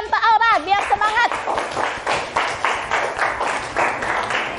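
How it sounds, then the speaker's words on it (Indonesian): Schoolchildren in a junior high classroom break into clapping for a classmate named Aura, a burst of fairly close, uneven hand claps that follows a voice and runs on for several seconds. "Kasih tepukan untuk Aura biar semangat."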